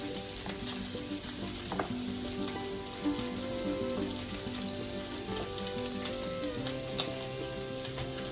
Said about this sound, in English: Keep that bacon frying.